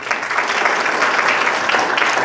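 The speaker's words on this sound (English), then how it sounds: "Let's give them a round of applause." An audience applauds panelists at the close of a China Business Summit panel in Atlanta, a dense, steady wash of many hands clapping together at close range with no one speaking.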